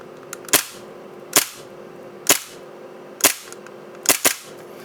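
Tokyo Marui Hi-Capa airsoft pistol, race style, dry firing: six sharp, loud clacks of the slide cycling, spaced roughly a second apart with a quick double near the end, over a quiet room.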